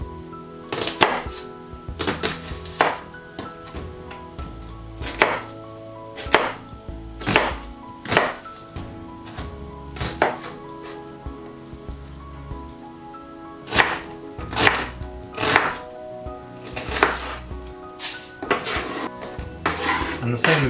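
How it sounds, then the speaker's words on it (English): A peeled vegetable roughly chopped with a knife on a board, a series of sharp, close thuds in an uneven rhythm, some in quick clusters, with no voices. "So with that peeled, I'm just going to chop it."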